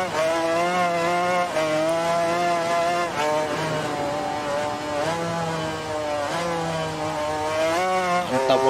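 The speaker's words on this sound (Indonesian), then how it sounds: "Pertahankan posisi Valentino Rossi dengan motor Honda-nya. Dua tak 500 cc" A Honda 500cc two-stroke racing motorcycle screams through gear changes on a MotoGP final lap, its high rasping wail rising and dropping in repeated sweeps, loud and continuous with no speech.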